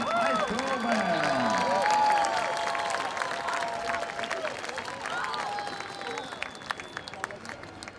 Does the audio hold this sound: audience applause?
yes